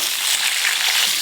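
Cut potatoes and papaya hit hot mustard oil in a wok and sizzle loudly and continuously, a close, bright frying hiss with no one talking.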